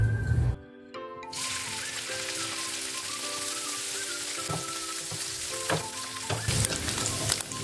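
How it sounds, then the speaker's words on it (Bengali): Paneer pieces dropped into hot oil set off a loud crackling sizzle after a brief silence, then a steady frying hiss with scattered pops and clinks of a utensil near the end. "তেল গরম, এবার এর মধ্যে পনিরগুলো আমি দিয়ে দেবো।"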